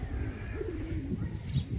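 Pigeons coo softly in low, rolling murmurs, one close call rising and falling over a gentle outdoor background in Sparkhill, Birmingham.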